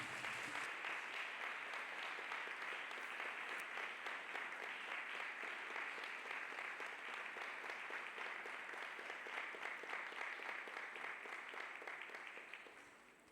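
Worshippers at a deliverance prayer service clap their hands for Jesus Christ, a sustained wash of many hands, heard faintly and at a distance, that keeps an even level for over twelve seconds before it tapers off.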